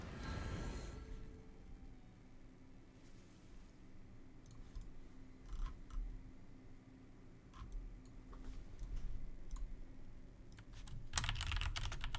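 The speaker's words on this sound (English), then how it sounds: "Sorry about the typing noises." Typing on a computer keyboard during a Legends of Runeterra card game session, a quiet run of scattered key clicks with a few sharper bursts near the end, no talking.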